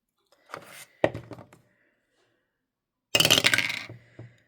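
Coloured dice rattle and tumble onto a hard surface, two short clattering bursts early on followed by a louder, longer roll a moment later, close and with no talking.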